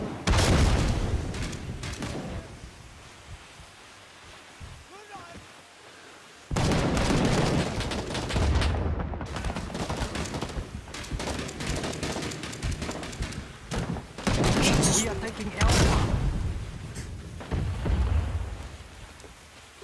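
Artillery barrage in Rising Storm 2: Vietnam, a run of loud deep booming blasts that roll and rumble, breaking off briefly before crashing back in heavier.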